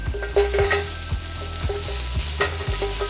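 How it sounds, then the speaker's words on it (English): Chicken fajita pizza topping stirred in a hot pan with no oil, giving a steady close sizzle with repeated scraping strokes of the utensil at a regular rhythm, and no talking. "I'm not putting any oil in here. I'm just pretty much trying to stir it a little bit."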